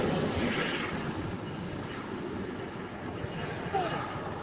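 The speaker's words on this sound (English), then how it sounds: "747-8 arriving at 3:53" Atlas Air Boeing 747-8 arriving at LAX, a broad, steady jet roar close by and fairly loud, heard outdoors near the airport.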